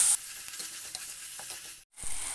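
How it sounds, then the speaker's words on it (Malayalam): Sliced tomato and curry leaves sizzle and get stirred in hot oil in a pan for a Kerala bitter gourd fish curry, a steady close frying hiss with a brief silent break near the end. "ഒരു തക്കാളി ഇതേപോലെ സ്ലൈസായിട്ട് അരിഞ്ഞതിട്ട് കൊടുക്കുന്നുണ്ട് കുറച്ച് കറിവേപ്പില ഇട്ട് കൊടുക്കുന്നുണ്ട് നല്ലോണം ഒന്ന് വഴറ്റിയെടുക്കാം"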